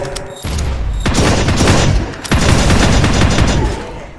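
Rapid, loud shotgun blasts in Tactical Operations Force, a dense volley of close gunfire bursts with short gaps, punchy and booming, dominating the mix.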